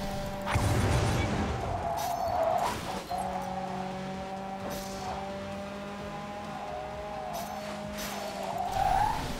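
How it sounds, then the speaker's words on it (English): A racing car in the video game Blur crash-lands with a thud and skidding tires over a steady engine drone, followed by a continuous revving hum with brief knocks and whooshes. "that was a good crash landing"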